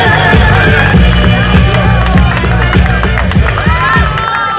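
A pageant audience claps and cheers loudly for a contestant, a dense, continuous roar of applause and shouting with music playing underneath.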